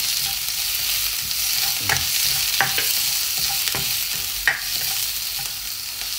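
Shrimp sizzling in a frying pan with onion and garlic, a close, steady hiss of frying with occasional soft clacks of a spatula stirring, no voices.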